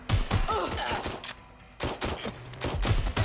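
Bursts of rapid gunfire in Watch Dogs: Legion, loud clustered shots with short pauses between volleys, close and punchy.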